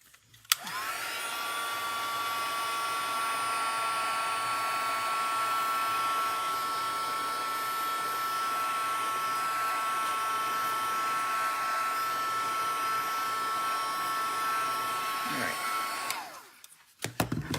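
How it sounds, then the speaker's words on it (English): Electric heat tool blowing hot air to dry ink on specialty paper, a steady whirring hiss held close and loud for about fifteen seconds before it switches off. "I'm just going to take my heat tool and we're going to dry it just for a minute"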